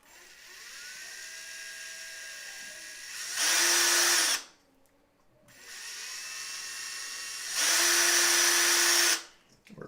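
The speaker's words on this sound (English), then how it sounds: "If I can get the drill to cooperate, we'll go do a couple steps up" A power drill working in a studio build runs in two long bursts with a rising whine and a pause between them, loud and close, with no talk over it.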